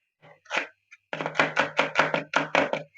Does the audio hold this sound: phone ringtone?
no